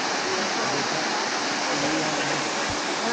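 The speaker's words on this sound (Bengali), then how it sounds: "তো এটা হচ্ছে থার্ড ফেজ। ওই উপর থেকে জল আসছে।" Elephant Falls waterfall in Shillong, water pouring down from above in a dense, steady roaring rush, loud and close throughout, with faint voices in the background.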